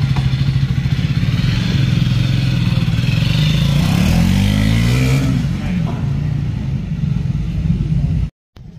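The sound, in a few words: Triumph Speed 400 motorcycle engine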